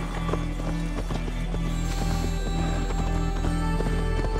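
A horse gallops through the open countryside of Assassin's Creed Valhalla, its rapid hoofbeats drumming steadily over a constant background hum and game music.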